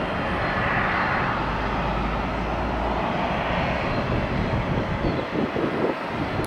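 Boeing airliner jet engines at an airport produce a steady, loud broadband roar that holds throughout with slight wind buffeting, no voices.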